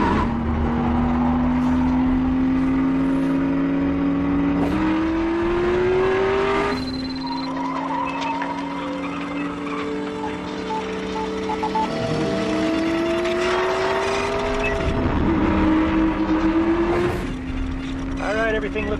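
A car with a brand new engine revving and pulling away, its engine note rising through several gear changes, loud and close, with voices talking over it.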